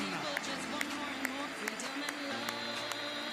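Crowd applause in a Paris 2024 Paralympic wheelchair fencing arena for the men's épée category A medallists, a steady, fairly distant clapping texture with a few sharper claps and talk over the top.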